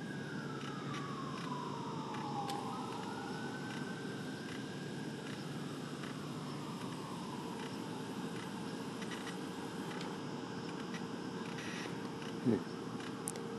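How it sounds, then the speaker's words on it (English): A faint siren wails far off on Christmas Eve, its pitch slowly rising and falling over a low steady hum of distant traffic. "With distant sirens"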